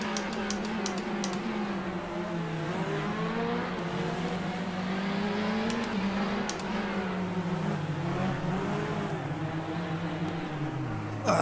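Race car engine in the GTR2 sim racing game at Silverstone, droning steadily with rising and falling pitch as gears shift, plus a few brief clicks.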